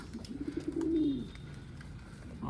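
A pigeon's soft, low cooing swells to a louder throaty coo in the middle, then fades, with faint background hiss.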